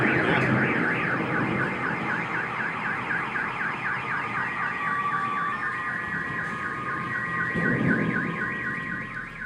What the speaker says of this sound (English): The bang was loud enough to set off nearby car alarms.